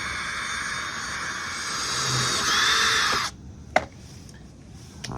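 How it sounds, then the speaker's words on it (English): A power drill bores pilot holes into a Sprinter van body for a side step install, whining steadily for about three seconds before stopping, then a sharp knock and faint clicks follow. "Now we've kind of got our pilot holes drilled."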